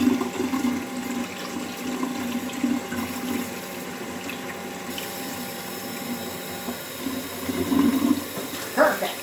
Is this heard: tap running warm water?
yes